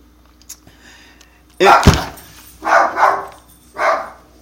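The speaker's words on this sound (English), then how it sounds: "Sorry, my dog is barking." A pet dog barks indoors in three or four sharp, close bursts spaced across a few seconds, loud against an otherwise quiet room.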